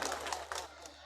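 An audience at a Romanian folk festival in Doloave, Vojvodina, Serbia, claps in a brief burst of dense, close applause.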